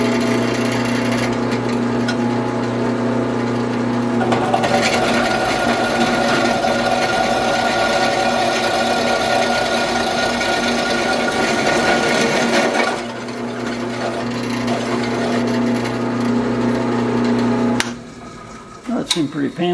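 A power drill bores a half-inch hole for a homemade ham radio antenna switch, whining loud and steady close by for about thirteen seconds before the pitch drops and the motor spins down near the end.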